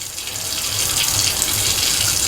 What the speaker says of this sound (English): with your water pump, it always surges